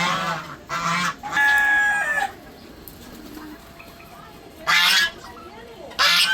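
Ducks and chickens let out on a foggy morning squawk and honk in loud bursts close by, with clucking and chatter from the flock continuing between the louder calls.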